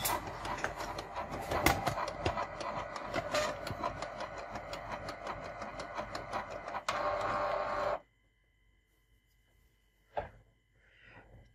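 A Canon G2010 inkjet printer runs after its stop button is pressed, a loud, steady mechanical whirring and clattering that cuts off abruptly, followed by near silence and a couple of faint clicks and a short beep.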